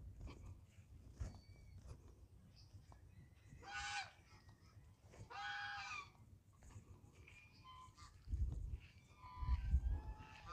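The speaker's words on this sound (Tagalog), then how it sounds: "ang gansa. Ang dami." A flock of geese honks in scattered bursts at a rural village, several loud calls standing out against quiet background rumble, moderately near.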